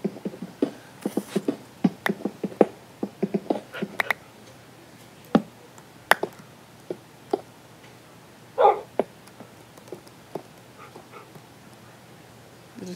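Tamed dogs in Minecraft bark in a rapid burst of sharp yips, then sparser single barks and a few whimpers, close and clear with no talk over them.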